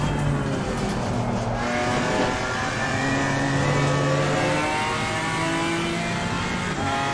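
Race car engine driving in third gear through a slow final corner, a loud, close, sustained drone with shifting pitch as the engine revs and pulls, no talking.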